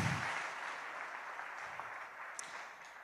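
Church congregation applauding in acclamation during a worship service, a steady broad wash of clapping from a crowd that holds at a moderate, even level throughout with no speech over it.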